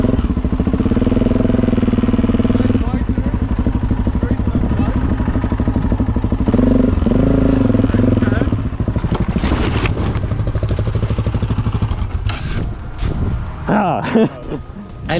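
An adventure motorcycle descending a steep slope during an off-road competition in the Netherlands, a loud steady engine drone under talk, then clattering and thumps as the bike goes down near the end.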